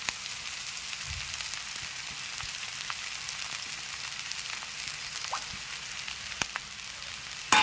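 Onion and soaked poha sauté in a pan for Nagpuri tarri pohe, a soft, steady sizzle with a few small ticks of stirring and a brief louder clatter at the end.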